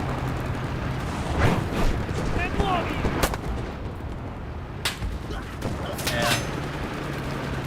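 Gunfire in the video game Enlisted while a player is shot through a tank: sharp shots crack out around the midpoint and later, over a dense rumbling battle bed with talk underneath.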